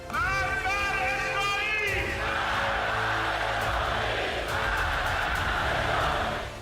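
A large crowd in a funeral procession for a slain general chants through the streets of Tehran. A lead voice rings out first, then a loud, dense mass of voices roars on steadily.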